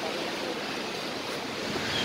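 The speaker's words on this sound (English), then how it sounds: "So we're at the falls. As you can see behind me." Constant broad roar of rushing water at Hogenakkal Falls, steady and loud without a break, heard alone with no voices.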